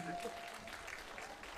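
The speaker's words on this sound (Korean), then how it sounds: "박수 한번 더 주시죠" Audience applause at a Korean community forum on local independence-movement history, a steady wash of many hands clapping throughout, fairly loud and continuous with no voices over it.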